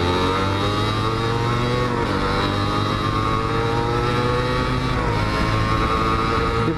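Suzuki Satria 120 R two-stroke motorcycle with a new clutch plate, ridden on a test run: a loud, steady engine drone with rising revs as it accelerates, continuous and close throughout.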